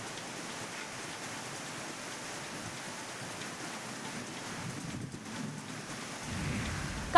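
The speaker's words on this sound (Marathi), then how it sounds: "आज पहाटेपासून पालघरमध्ये पावसाची दमदार हजेरी लागली आहे" Monsoon rain falls in Palghar as a steady, soft broadband hiss that holds even throughout, fairly faint and distant, with a slight swell near the end.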